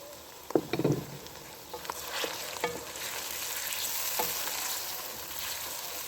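Tomatoes drop into onions frying in a pan for aloo gosht mutton curry, making a few soft thuds followed by a hissing sizzle and scraping stirs that settle into a steady fry.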